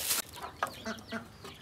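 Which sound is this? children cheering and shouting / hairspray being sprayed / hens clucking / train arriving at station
hens clucking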